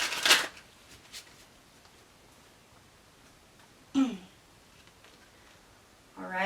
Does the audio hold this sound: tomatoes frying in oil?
no